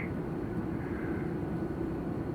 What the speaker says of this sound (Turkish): Uçaktayız galiba.